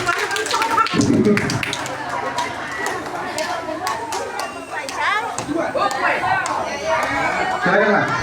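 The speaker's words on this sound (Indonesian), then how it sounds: "Tepuk tangan dulu ya." Group of young children clapping their hands during a fire and rescue station education visit, a burst of applause around the first second followed by scattered claps amid lively chatter and adult talk.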